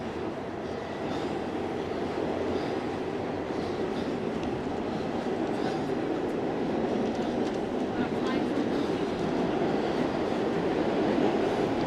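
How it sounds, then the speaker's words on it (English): NYC subway train on the yellow line (Q, N, R or W) rumbling beneath a Manhattan street in winter, a steady low roar with faint clatter heard from street level throughout. "Hearing the yellow line beneath us. Might be a Q, might be an N, R, or W train."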